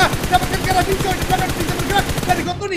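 Rapid bursts of automatic gunfire from the mobile battle-royale game PUBG Mobile, during a solo-mode esports match, rattle on continuously and loudly for a few seconds before cutting off.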